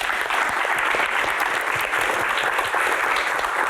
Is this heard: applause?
yes